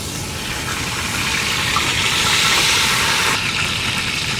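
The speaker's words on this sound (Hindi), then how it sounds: "तेल हमारा गर्म है, इसमें हम पुदीना डाल देंगे" Mint leaves sizzle in hot oil at the start of a Sindhi biryani masala, a steady, loud broadband hiss that holds evenly close to the pan throughout with no talking.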